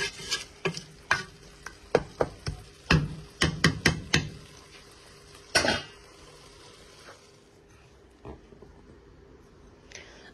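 Spice masala being stirred and fried in a pot, with a series of sharp spoon scrapes and knocks against the metal, close and fairly loud, over a low background sizzle that thins out toward the end.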